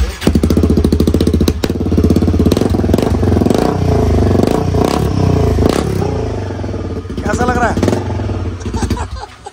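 Royal Enfield Himalayan 450 fitted with a decat bend pipe, engine revved hard in loud repeated blips with rising and falling exhaust tone, close up, with faint background chatter.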